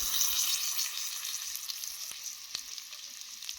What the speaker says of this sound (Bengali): আলুটা একটু নাড়াচাড়া করে নেওয়ার পর দেখো, লবণ দিয়ে দিলাম, হলুদটাও দিয়ে দিলাম